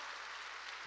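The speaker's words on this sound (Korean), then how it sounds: "박수 세게 치라니까" Church congregation clapping at a sermon, a dense wash of steady applause filling the space without a break, fairly loud and alone with no voices over it.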